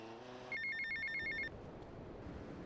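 A payphone ringing in GTA Vice City, a single burst of electronic trilling bell tones that lasts about a second, clear over a low background of game ambience.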